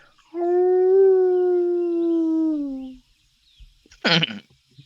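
A person imitates a hound's howl with one long, steady, slightly falling vocal tone lasting a few seconds, then a short sharp exhale or snort.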